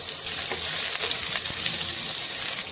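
Long-sliced onions drop into hot oil in a pan and burst into a loud, steady sizzle, close up, with a few light stirring clicks.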